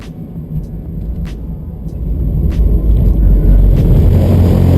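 Continuous low road rumble and tire noise from a Pontiac G8 driving on track pavement, a steady loud drone that grows slightly stronger partway through.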